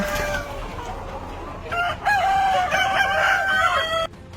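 Many chickens clucking and crowing together, close and busy, the calls rising in a loud overlapping chorus before cutting off abruptly.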